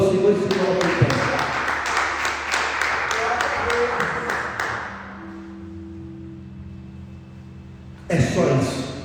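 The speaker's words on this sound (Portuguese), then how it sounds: "Aplauda ao Senhor e se coloque em pé." A church congregation claps in a brisk, rhythmic burst of applause for about five seconds. Sustained keyboard-like tones then ring alone before a second burst of clapping returns near the end.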